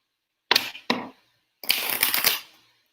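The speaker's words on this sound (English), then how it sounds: "The cards don't want to shuffle." Tarot cards riffled and shuffled up close, two short bursts followed by a longer flurry of rapid flicking.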